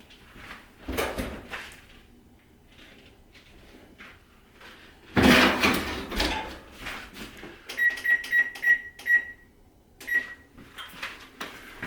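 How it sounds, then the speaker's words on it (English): Cookies go into a home oven set around 350 to 375 degrees. A loud thud of the oven door closing is followed a few seconds later by a row of bright electronic beeps from the control panel. "So I'm just gonna pop these into the oven."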